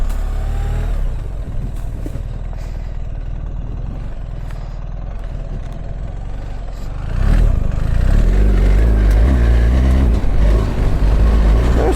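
A BMW R1300GS Adventure motorcycle on its first break-in ride, a steady low engine drone with wind rush that swells louder and fuller about two-thirds through as the bike picks up speed.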